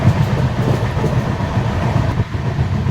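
The Ranchi–Howrah Shatabdi Express runs at speed through dense forest, giving a loud, close, continuous rumble with a rapid rhythmic clatter of wheels on the rails throughout.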